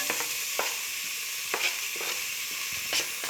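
Chopped onions go into a pot for browning keema, giving a continuous close sizzle with several soft scraping stirs at irregular intervals.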